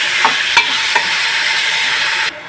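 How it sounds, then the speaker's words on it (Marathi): Tomatoes cooking in a pan for masale bhat make a loud, steady sizzle with a few sharp stirring scrapes, cutting off abruptly near the end. "आणि आता टोमॅटो शिजू देऊया।"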